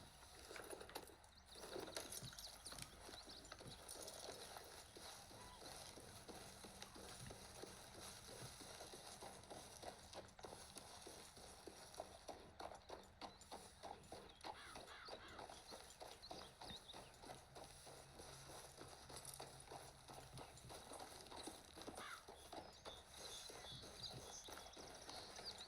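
Horse hooves clip-clop steadily in Red Dead Redemption 2 as the horse rides away from camp, with a regular rhythm running under continuous game ambience and faint birdsong, at moderate loudness throughout.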